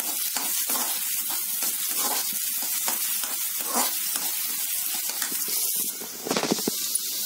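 Chopped onion fries in a pan for homemade pizza sauce, a loud, constant close sizzle with faint stirring scrapes running through it and a brief louder burst near the end.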